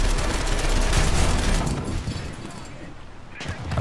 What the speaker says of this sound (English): I think he hit my turret twice.